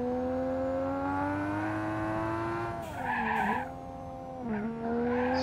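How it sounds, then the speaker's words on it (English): A car in BeamNG.Drive holds a steady rising engine drone, then twice breaks into screeching tire squeal as it drifts under braking through a wide curve, with the engine note dipping during each slide. "Slight braking drift"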